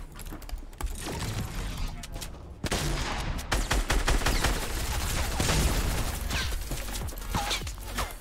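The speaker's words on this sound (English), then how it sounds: "I'm getting shot from behind." Rapid bursts of gunfire in a Fortnite Battle Royale match, dense and continuous over dull in-game thuds and clicks, with a brief quiet gap before the shooting resumes loudly.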